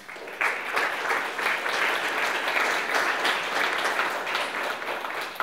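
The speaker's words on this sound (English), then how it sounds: "big applause to Kara Parfit." At a company presentation on IT security services, an audience claps for about five seconds, steady and moderately loud, with no talking over it.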